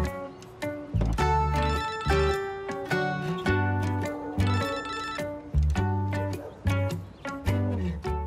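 A telephone rings repeatedly while an outgoing call waits to connect, each loud electronic ring bursting out in a regular pattern with short gaps between.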